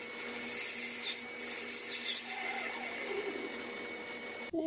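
A metal lathe facing the end of a workpiece with a hand-ground tool bit, a steady close cutting hiss with high whine and a sharp knock at the very end.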